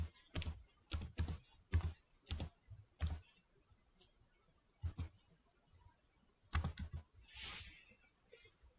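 Fingers type on a computer keyboard in short, irregular clusters of quiet keystrokes with pauses between them.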